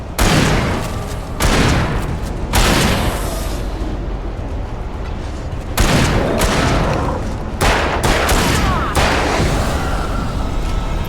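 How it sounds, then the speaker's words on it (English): Sustained gunfire from a firefight in the video game Alan Wake Remastered, dense bursts and heavy booming shots coming in repeated loud volleys for the whole stretch, with frantic voices shouting over the shooting. "Keep shooting!"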